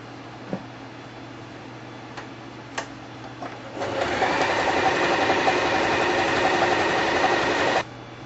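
After a few faint clicks, a sewing machine stitching seams on a sandbag whirs steadily for about four seconds, then stops abruptly.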